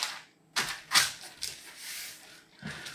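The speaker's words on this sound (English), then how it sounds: "fold it in half" A sheet of greaseproof paper is folded in half, giving crisp crackling rustles and a few sharp creasing snaps, close and fairly loud with no talking.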